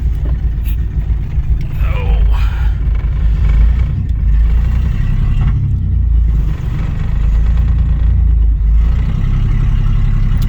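Repaired engine of a 1996 Ford Explorer, brought back after sitting five years with a blown engine, running with a loud low rumble and gentle surges, heard close up alongside some speech.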